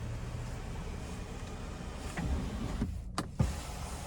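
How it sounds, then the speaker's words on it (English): Power sunroof shade sliding open inside a 2025 Nissan Murano Platinum AWD, a close, steady electric motor hum that runs for a few seconds, then stops with a couple of small clicks. "So I slid the shade back, one touch for the tilt. And then you can hit it again for the slide."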